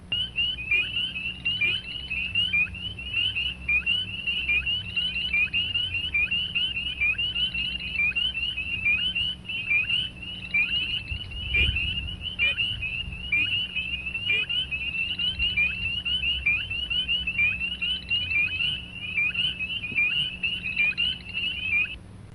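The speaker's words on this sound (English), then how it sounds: "might be far along enough in spring that the spring peepers are going." A dense chorus of spring peeper frogs, many tiny frogs peeping together in a fast, continuous, shrill pulsing that stays loud and steady throughout, with a low rumble underneath.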